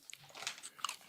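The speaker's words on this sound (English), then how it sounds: "it's a flavored tortilla chip, so it's going to be crunchy" Someone bites into a crunchy Doritos flavored tortilla chip, giving a short burst of crisp, crackly crunching up close, quiet and brief with no talking.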